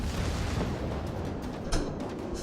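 A warship detonates in a World of Warships-style naval battle game, a sharp burst landing over continuous rumbling battle noise, fairly loud and close.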